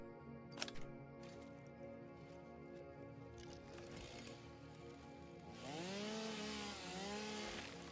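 A chainsaw bites into a tree in the video game Satisfactory, starting with clanks and mechanical clatter, then revving into a loud, wavering whine that rises and dips as it cuts.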